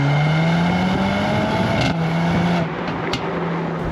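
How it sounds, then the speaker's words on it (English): A 2023 Mercedes-AMG SL 43 with a four-cylinder engine sends a loud, steady exhaust drone out the back while driving, its tone holding with a slight pitch rise and dip and no talking over it. "I'm really not mad at that exhaust note coming out the back. Even though it's a 4-cylinder, it sounds serious."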